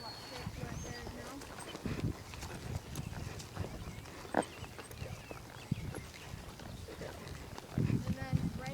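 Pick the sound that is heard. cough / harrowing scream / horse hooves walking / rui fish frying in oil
horse hooves walking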